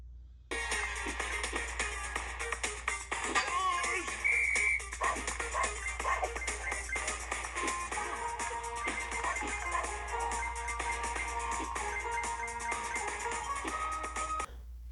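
Busy electronic mobile game effects play continuously on a first-generation iPhone SE: chirps, beeps and short tonal blips over a steady low hum, with no talking.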